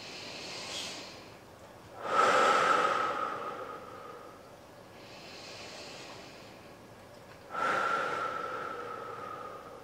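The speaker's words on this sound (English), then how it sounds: "Take a couple deep breaths here." Slow, deep breaths during a yoga warrior one pose, two strong drawn breaths standing out with softer airy breathing in between, close and quiet with no talking.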